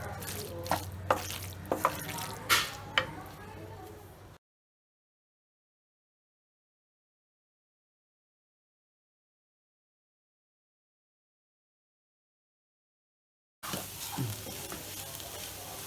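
Kerala-style beef roast sizzles in a pan while a spoon scrapes and stirs in short strokes. A long stretch of silence follows before the sizzling and stirring return.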